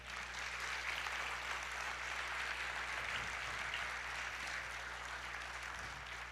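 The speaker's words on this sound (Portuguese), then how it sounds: "Vamos aplaudir ao Senhor." A church congregation applauding, steady, even clapping of a crowd that sounds somewhat distant and soft, with a low hum underneath.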